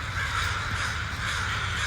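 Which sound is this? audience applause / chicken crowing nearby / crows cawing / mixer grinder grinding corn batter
crows cawing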